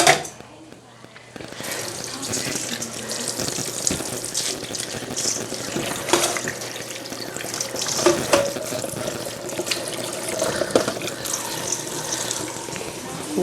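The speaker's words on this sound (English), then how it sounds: "Okay, so I'm gonna rinse these off." Potatoes rinsed under a running kitchen tap, a steady broadband splash of water into the sink that persists through the whole stretch with small shifts in flow, close and fairly loud, no talk over it.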